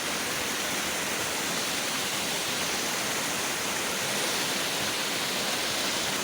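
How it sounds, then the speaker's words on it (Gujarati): Water floods across a farm field in a steady, broad rushing roar, unbroken and fairly close throughout. "આમ જો કેટલું પાણી જાય"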